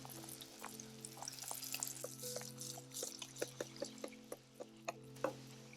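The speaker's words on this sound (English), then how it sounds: "Start pouring the oil over the bake." Hot oil spooned over dumpling dough frying in a pan, soft sizzling with a series of distinct sharp pops and crackles over a low steady hum, close and fairly quiet.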